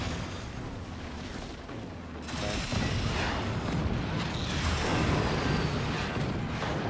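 Cannon blasts in a competitive video game battle, thick rumbling booms layered over one another, quieter at first then surging louder and sustained through the rest.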